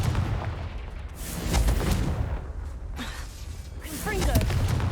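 Confringo blasting spell explosions in Hogwarts Legacy, with several loud booming bursts spread across the stretch over dense game music and a voice briefly speaking in the mix.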